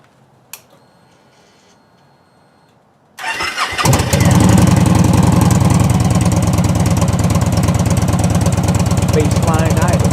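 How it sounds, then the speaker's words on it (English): A Victory Vision motorcycle fitted with D&D exhaust and an unwrapped baffle starts up after a quiet pause, cranking briefly before settling into a loud, steady, throaty idle close to the microphone. "we're going to let you know how this sounds."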